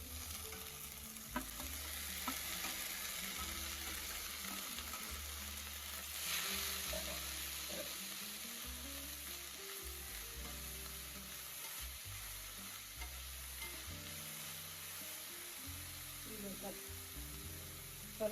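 Boiled cabbage with chana dal frying in a pan for Kannada-style palya, giving a steady low sizzle with soft stirring scrapes throughout, quiet and continuous without any speech.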